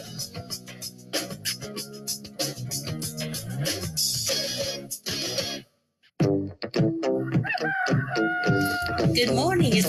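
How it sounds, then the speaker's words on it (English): A rooster crows as the opening of a morning radio show, set against a busy backdrop of music and talk, with a brief drop to silence partway through before the sound resumes. "If the rooster's crowing"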